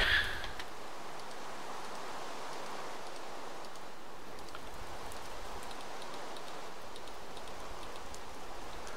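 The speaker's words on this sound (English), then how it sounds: "Here comes the rain again." Steady, faint rainfall in the video game Minecraft forms a soft, even hiss that continues without a break and has no other sounds over it.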